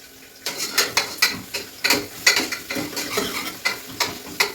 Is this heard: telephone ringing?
no